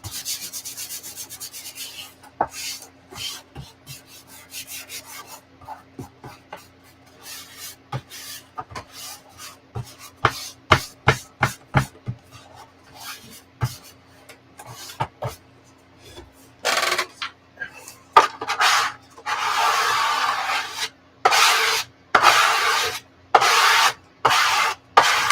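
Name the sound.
squeegee rubbing, pressing material down flat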